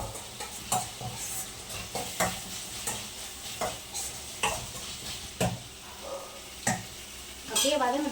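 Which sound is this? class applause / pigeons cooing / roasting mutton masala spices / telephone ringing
roasting mutton masala spices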